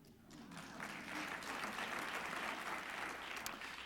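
Audience applause at an Academy of Television Arts & Sciences event, a broad, steady roar of many hands clapping that swells and stays loud throughout, with no talk over it.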